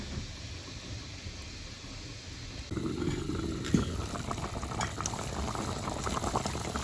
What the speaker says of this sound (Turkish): Yemeğimiz kaynıyor. Şurada Çayımız da kaynadı.